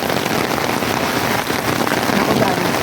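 Heavy rain falls in Macau as a loud, unbroken hiss of drops hitting surfaces, with a voice faintly underneath.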